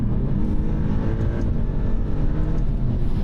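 A 2023 Alfa Romeo Giulia Quadrifoglio on a race track drones loudly as it drops through the gears, a dense, steady engine roar with low rumble heard from inside the car and no talk.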